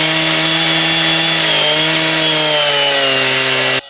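A chainsaw planes a log for rough furniture work, its engine a loud, steady drone that dips slightly in pitch as it bites, then cuts off abruptly.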